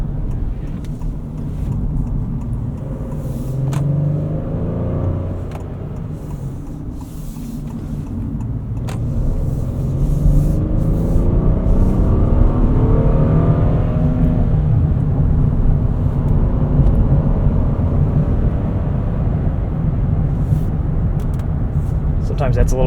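A 2026 Honda Passport TrailSport Elite driving on wet roads with the transmission in sport mode, its engine held at higher revs as a steady low drone that swells midway, with a person talking over it throughout.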